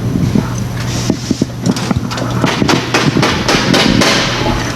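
A hammer's ball and peen ends strike a round-headed pan screw during a hand tools demonstration, landing a series of sharp, irregular metallic taps close by over a steady low hum.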